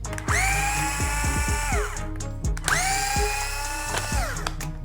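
A small electric driver spins screws out of the side plastics of a Losi ProMoto MX RC motocross bike, with two rising, whining motor runs about two seconds each and clicking, ratcheting bursts around them, close and loud.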